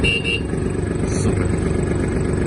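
A Kubota T-240 mini tractor sounds its horn over its running engine, a short tone near the start and another brief bleat midway, with the low engine rumble steady underneath.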